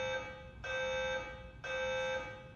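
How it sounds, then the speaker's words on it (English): A fire alarm sounds in an apartment building, a loud steady electronic tone that cycles on and off in long pulses with short gaps between them. No one speaks. "Alarm is going off randomly."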